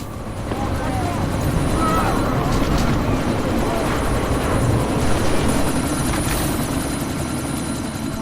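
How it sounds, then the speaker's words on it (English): A helicopter in the video game Deus Ex Mankind Divided, a steady loud rotor and engine roar that holds throughout amid a sandstorm, with no talking. "you need to disable that chopper"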